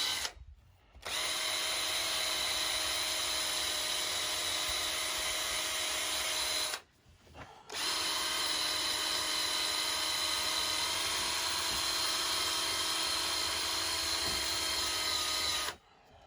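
A power tool spins a 3000-grit pad against a Chevy truck gauge cluster, producing two long, steady high-pitched whirring runs close by, separated by a brief stop.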